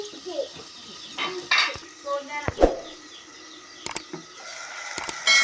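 Mutton curry with fenugreek leaves being stirred in a cooking pot, with intermittent scraping and clinking of a utensil against the metal pot, a few louder knocks, and faint background noise.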